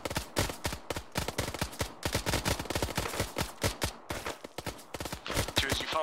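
Sustained gunfire in a ShackTac military video game comes as dense, rapid bursts of loud, sharp shots in close succession. It runs almost without pause across the whole span, with short gaps between volleys.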